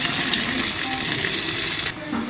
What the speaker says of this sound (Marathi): कांदा थोडासा परतत आलेला आहे, त्याच्यामध्ये आपण आता मटण ॲड करू